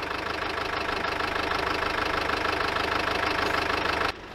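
A diesel Mercedes car engine runs steadily nearby with a rough, knocking clatter and constant drone, cutting off abruptly near the end.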